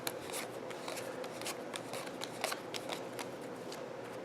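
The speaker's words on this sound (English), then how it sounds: "Shuffle 5 room cards to each player," Room cards for the Boss Monster card game being shuffled close by: a steady, soft papery riffling with quick crisp ticks, continuous and fairly quiet, with no talking.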